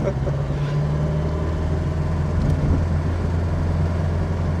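Inside a classic BMW 2002 on the road, a steady, droning engine hums under the throttle and holds a fairly even level throughout.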